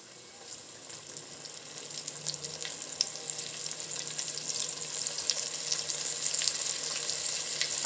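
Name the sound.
chicken wings frying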